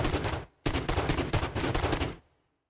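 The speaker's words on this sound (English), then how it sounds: "I used the transient of a shotgun blast to give the sound an organic, real-world feel." Starfield cannon shot layered with a shotgun blast transient: a dense, loud, booming burst, a brief gap, then a longer rapid volley of blasts that rings out and fades. No voices.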